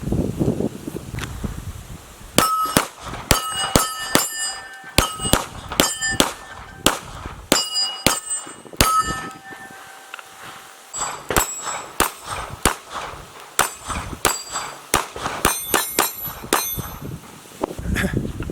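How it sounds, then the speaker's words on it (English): Canik TP9SF pistol shots ringing off steel targets on posts outdoors, a long string of sharp cracks each followed by a bright metallic clang, fired at an irregular steady pace with no talking. "Shooting a couple of steel targets on the posts over here now."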